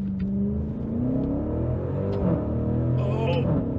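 Maserati Levante V8 Ultima SUV engine revving hard toward high RPM, a loud, continuous rising mechanical drone with steady rumble, close and without talk.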